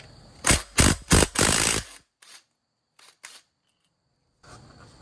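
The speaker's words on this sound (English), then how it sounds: "Utilising a 17mm socket, remove the sprocket." Socket wrench with a 17mm socket removing a cam sprocket on a Mitsubishi Delica 6G75 3.8 engine, giving four quick, loud ratcheting bursts, a pause, a few softer clicks, then a faint mechanical rustle.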